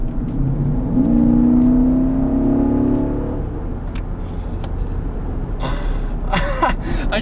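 A Jeep Grand Cherokee SRT V8 engine revs and pulls hard, a steady rising drone lasting a few seconds before settling, followed by a few sharp clicks and bumps inside the cabin.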